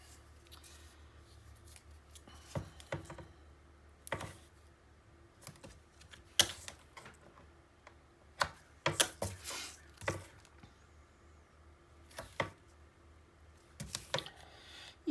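A fresh roll of tape is handled during craft work on a Christmas mini album, with scattered crackling, tapping and rustling bursts, some sharp and close, over a quiet room background.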